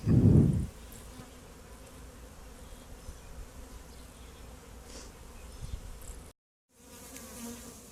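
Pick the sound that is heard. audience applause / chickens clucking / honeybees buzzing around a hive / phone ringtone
honeybees buzzing around a hive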